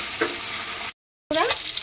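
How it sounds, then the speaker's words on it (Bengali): Tilapia fish frying in hot oil in a kadai, a steady bright sizzle interrupted by a short cut of silence, then resuming with soft spatter pops close by. "বাকি মাছগুলো ভেজে নেব"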